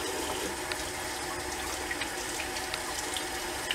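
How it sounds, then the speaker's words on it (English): Hot tap water runs steadily into a sink while shaving tools for a Damaskeene OC razor are rinsed, a continuous close splashing stream with small spatters and no talking. "we're going to be rinsing off the tools"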